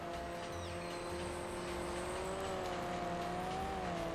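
Ford EX concept car driving in the Ford Racing video game, a steady synthetic engine drone with faint rising and falling pitch, a continuous low-level hum without talk.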